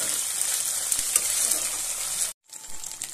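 Ginger paste sizzling in a hot pan while being stirred, a dense continuous fry with scraping, briefly cutting out near the end before resuming.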